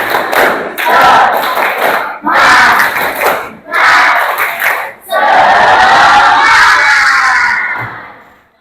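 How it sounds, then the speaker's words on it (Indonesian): A classroom of students performs a rhythmic spirit clap chant, loud bursts of synchronized clapping and shouted voices in repeated phrases, ending in a long sustained group shout. "Tepuk semangat."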